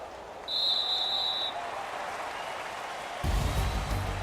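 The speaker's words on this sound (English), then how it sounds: "And the home crowd applauding" A home crowd applauds at a football stadium in the Madden NFL 19 video game, a steady wash of clapping and cheering that swells slightly near the end.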